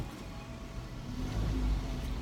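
A car drives along at moderate speed before parking, with a steady low engine rumble and road noise that swells slightly partway through.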